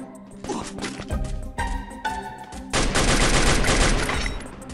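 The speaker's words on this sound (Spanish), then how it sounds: "Tengo una escopeta, bro." A shotgun fires in the Free Fire video game, a quick run of loud sharp blasts that builds into a dense burst of gunfire near the end.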